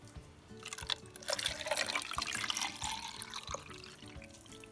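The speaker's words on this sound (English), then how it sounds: "I'm just gonna put it in this jar and fill it up with vinegar." Vinegar poured into a jar of rusty old hand tools, a continuous splashing trickle of liquid with small drips and clinks, close and fairly quiet, no talking.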